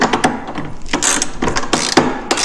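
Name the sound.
bolts being tightened while installing a Polaris RMK snowmobile front bumper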